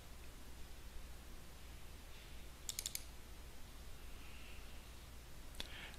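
A computer mouse is double-clicked, giving a faint, quick cluster of clicks midway and another brief click near the end over a steady low hiss.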